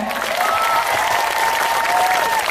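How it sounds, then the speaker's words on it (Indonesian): Concert audience clapping at a hometown show in Banyuwangi, a dense steady wash of applause, with a faint sustained tone running underneath. "Tepuk tangan ya."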